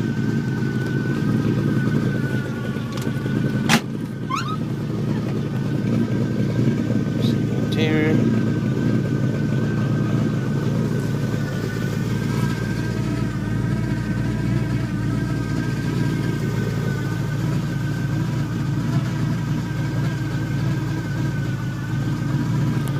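A 1957 Chevrolet Bel Air with a new 350 V8, Thumper cam and dual exhaust runs steadily at idle, a low continuous rumble heard close with a few faint clicks and no pauses.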